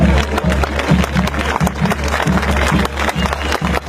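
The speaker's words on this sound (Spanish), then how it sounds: "Que se sientan estos aplausos." Crowd applause at a bullfight in Matucana, Peru, a loud, dense wash of clapping with a steady low hum beneath and rhythmic pulses throughout, heard alone without speech.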